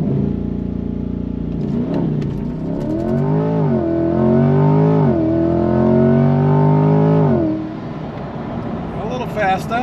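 A C8 Corvette in sport mode launches hard under launch control. The engine note climbs in a loud, close, sustained surge for several seconds, then drops off. There is no talk over it.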